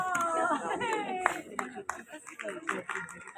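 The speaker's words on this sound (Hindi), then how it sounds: "तालियां बजती रहे।" An audience at a swearing-in ceremony claps in scattered bursts, heard fairly close under a loud voice speaking through a PA, with some chatter in the room.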